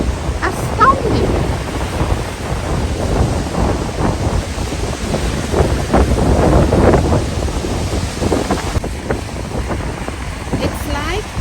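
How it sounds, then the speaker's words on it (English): Gusty wind blowing across a wave-rippled lake in the Finger Lakes region, a steady loud rushing roar with buffeting on the microphone and a wash of lapping water underneath, continuous throughout. "It's like as if the wind will blow you away."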